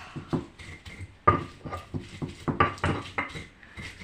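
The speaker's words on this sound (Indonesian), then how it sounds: "bawang merah, bawang putih, dijahe, garam, laos, dan jeruk ya. Ini mau dihaluskan" Shallots, garlic, ginger, salt and galangal are pounded and ground into a spice paste, giving a steady series of close, sharp knocks and scraping thuds in an uneven rhythm, with no talking.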